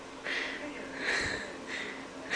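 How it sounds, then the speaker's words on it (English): A dog with its head out of a bedroom window sniffs and sniffles at cold blizzard snow, three short nasal bursts close to the microphone against a faint steady background. "He keeps sniffling because it's so cold on his nose."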